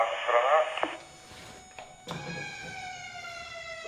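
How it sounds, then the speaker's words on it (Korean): A gas fire suppression system's local siren sounds during a manual activation test, giving a steady electronic tone in a room while people talk. "수동 조작함 동작을 시킨 거고 로컬 쪽에 사이렌이 나가고 있습니다"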